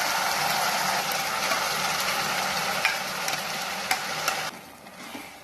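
Grated carrot added to raisins frying in a pan for carrot halwa, a dense steady sizzle with scraping stirs, then the sizzle softens sharply near the end.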